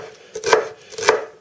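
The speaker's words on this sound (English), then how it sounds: "pretty small pieces of the celery because it's got a strong flavor" A kitchen knife chops celery into small pieces on a cutting board, giving two crisp, close knocks about half a second apart with no talk.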